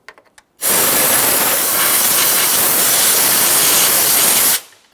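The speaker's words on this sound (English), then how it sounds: "I'm just going to use some compressed air to try to remove any miscellaneous debris." Compressed air blasting to clear debris from the engine bay of a 2015-2019 Subaru Outback near the windshield washer reservoir, one loud, steady rushing hiss lasting about four seconds, then stopping abruptly.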